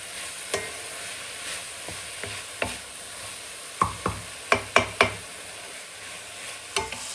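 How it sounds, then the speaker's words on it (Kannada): Shrimp and egg masala fries gently on a low flame, a soft steady sizzle broken by sharp scraping stirs of a spatula against the pan, spaced irregularly with a quick cluster near the middle. "ಸೊ ಈಗ ನೀಟಾಗಿ ಫ್ರೈ ಮಾಡ್ಕೋಬೇಕು. ಲೋ ಫ್ಲೇಮಲ್ಲೇ ಮಾಡ್ಕೊತೀನಿ."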